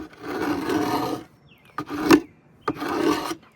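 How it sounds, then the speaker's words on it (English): A dry wooden beehive box being scraped clean of hard buildup with a hand tool during preseason equipment prep, giving two long rasping strokes, then a short scrape and a final stroke, close and fairly loud. "just a quick scrape, and this side sometimes works better"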